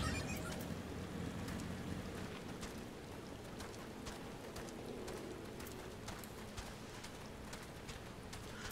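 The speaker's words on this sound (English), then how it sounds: "Trade snow for rain" Steady rainfall in the video game Final Fantasy XIV, a dense continuous hiss with scattered droplet ticks and a low rumble underneath, even in level throughout with no talk.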